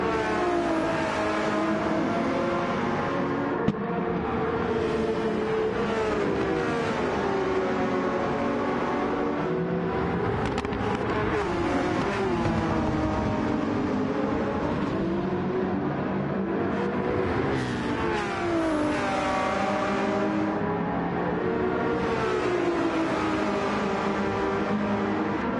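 Race cars in a GT World Challenge racing game at Fuji drone continuously as they pass slower traffic, engine tones rising and falling through gear changes and sweeping pitch shifts, steady and loud throughout with no voices.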